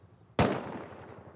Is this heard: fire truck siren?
no